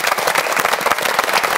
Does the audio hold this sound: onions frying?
no